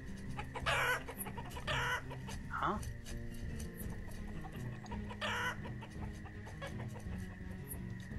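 Chickens cluck repeatedly in the Banished city-building game, several short bursts over a steady farmyard bed, with a person speaking briefly.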